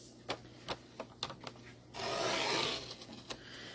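Scissors trimming printed paper for a prayer journal cover: a series of sharp snips and paper rustles, then a longer rasping cut through the sheet, close and fairly quiet with no talking.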